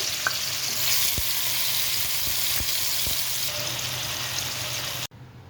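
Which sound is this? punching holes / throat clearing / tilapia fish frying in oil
tilapia fish frying in oil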